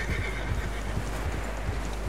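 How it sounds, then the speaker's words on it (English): Horses neighing and struggling through deep fresh snow in the video game Red Dead Redemption 2, with a loud close whinny over dense, continuous hoof and body noise and a steady wind-like rush filling the whole moment. "Horses are struggling."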